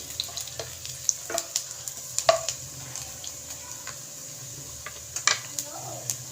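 Quail frying in a pan with ginger added for crispy adobo, a low sizzle broken by repeated sharp pops and spatters, with faint voices in the background.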